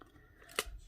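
A single crisp snip of non-stick scissors cutting through a glue dot during card making, brief and close in a quiet room.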